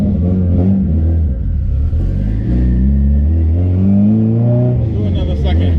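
A 700HP turbocharged Honda Civic EK pulls hard in second gear on a New York street, its engine roaring loud and close with a rising, strained drone, while people inside talk and shout over it.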